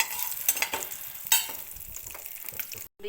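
Raisins frying in hot ghee for vermicelli payasa, a crackling sizzle with a few sharp spoon-against-pan clinks and stirs, stopping briefly near the end.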